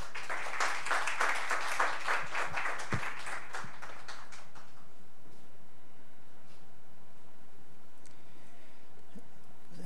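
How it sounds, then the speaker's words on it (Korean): A crowd applauds with dense, steady clapping that fades out after about four seconds, leaving quiet room noise. "박수로 환영하겠습니다."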